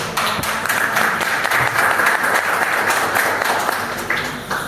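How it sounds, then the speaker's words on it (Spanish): Classroom audience applauding during an immunology lecture, steady dense clapping that holds for several seconds at close range, with a faint voice underneath. "Un aplauso para ustedes."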